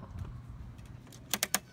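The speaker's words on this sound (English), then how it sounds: "They all hear that coin machine." A coin-operated animal feed dispenser at a farm's goat pen gives a few quick metallic clinks and rattles, three sharp clatters close together near the end over faint background.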